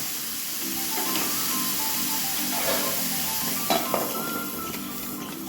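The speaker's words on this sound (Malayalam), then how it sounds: "ഹൈ ഫ്ലെയിം അല്ല ഞാനൊരു മീഡിയത്തിലാണ് ഗ്യാസ് വെച്ചിരിക്കുന്നത് നമുക്കൊന്ന് മൂടി വെച്ച് കൊടുത്തിട്ട് തക്കാളി ഒന്ന് വേവിച്ചെടുക്കാം" Tomatoes cooking in a covered pan on a medium gas flame give a steady, soft sizzle and hiss throughout, with a few faint clinks of cookware and a quiet tonal hum in the background.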